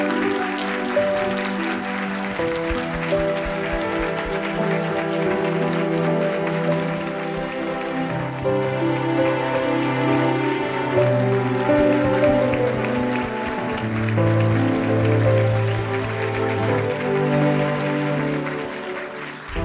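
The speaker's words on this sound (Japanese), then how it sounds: "皆様大きな拍手で" Audience applause at a Japanese film premiere stage greeting for the movie Sekai no Okiku, sustained clapping from a large crowd mixed with background music, steady and full for the whole stretch.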